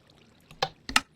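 Water from a dispenser on a crop farm in Minecraft Bedrock Edition, heard as two quick splashy bursts, the second louder and fuller, over near-silence.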